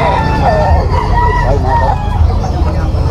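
Roosters crow at a busy chicken market in Malabon, their calls rising over the constant murmur of the crowd, with voices talking close by throughout.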